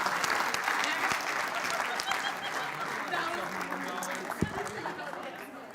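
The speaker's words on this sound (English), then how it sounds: "Give Kenny a big round of applause." A crowd at a teacher appreciation show applauds a man named Kenny, sustained dense clapping at steady loudness with chatter and a few voices mixed underneath.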